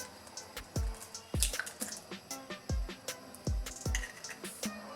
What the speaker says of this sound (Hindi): पहले हम एक अंडा डालेंगे